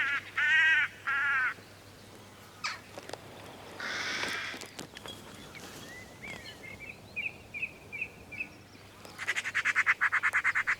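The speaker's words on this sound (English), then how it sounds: "it gave the hooded crow confidence to land again" A hooded crow caws outdoors in several loud, harsh bursts of repeated calls separated by pauses, with fainter chirps and rustling in between.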